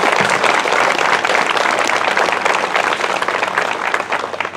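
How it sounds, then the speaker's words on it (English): Sustained audience applause for the Rheems PTO at an elementary school celebration ceremony: loud, dense clapping from a large crowd that carries on steadily for several seconds before easing slightly. "can I have a round of applause for the Rheems PTO?"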